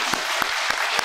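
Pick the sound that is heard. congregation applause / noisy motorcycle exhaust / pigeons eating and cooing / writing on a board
congregation applause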